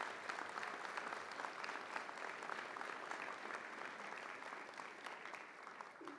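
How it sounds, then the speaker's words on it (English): An audience at an honors convocation gives a big round of applause for student honorees, a dense, even wash of many hands clapping throughout, moderately loud and without talk. "let's once again give them a big round of applause"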